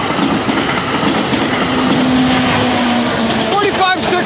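A train rolling past on the Conrail Lehigh Line: a loud, close, continuous rumble of wheels and cars, with a faint horn-like tone partway through and a person talking over it.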